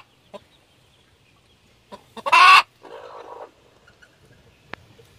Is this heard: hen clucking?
yes